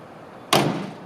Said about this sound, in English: doors shut nice